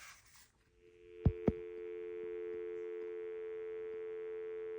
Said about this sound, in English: So you hear it has a dial tone.